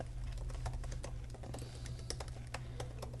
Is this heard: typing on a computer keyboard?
yes